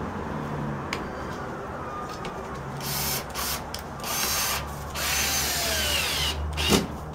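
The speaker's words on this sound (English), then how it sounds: "So now you just put all your screws in." A power drill drives screws into sheetrock while a hole in the wall is patched, with bursts of whirring motor and winding up and down between short pauses, fairly close and with no talking.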